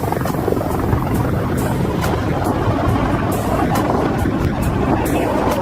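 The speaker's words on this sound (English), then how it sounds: "The helicopter is an unmarked Black Hawk-type chopper, often used by special forces." An unmarked Black Hawk-type military helicopter circles over a mountain peak, giving a continuous broadband rotor roar with periodic thumping pulses, moderately loud and unbroken, with no voices.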